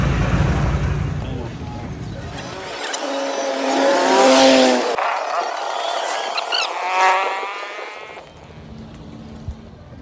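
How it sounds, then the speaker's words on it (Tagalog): Road traffic with cars and trucks passing along a roadway heard while walking, engines swelling and fading as vehicles go by at close range, with tonal engine whine and rumble mixed under intermittent talking. "Ang dami mga sasakyan, may mga truck."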